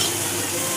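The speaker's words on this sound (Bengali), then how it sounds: "এবার ঘুগনিটা দিয়ে দেবে, মশলাটা কষানো হয়ে গেছে, বা সেদ্ধ করে রাখা মটরটা দিয়ে দেবে।" Boiled peas fry in a spiced masala for ghugni, making a brief steady sizzle close to the pan with no voices.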